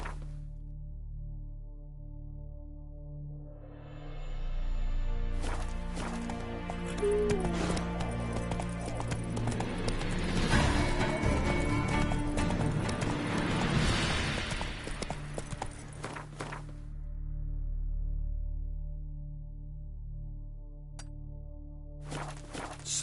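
Roach the horse gallops in The Witcher 3. Rhythmic hoofbeats swell in, stay loud and busy in the middle with game effects layered over them, and then thin out toward the end.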